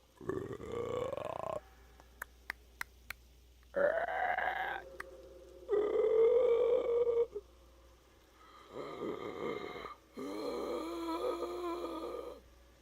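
A human voice imitates the prowling sound of a headless Roblox horror monster: a series of separate croaking, gurgling, belch-like growls, some short and some drawn out, with pauses between, close and alone.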